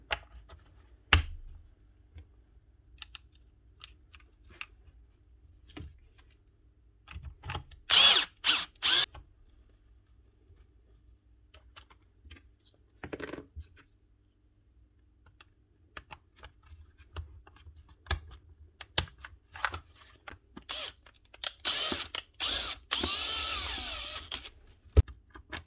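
Screws being driven into a Hikoki NT65GB gas nail gun: short bursts of a power driver whirring and ratcheting between quiet stretches of small clicks and handling noises.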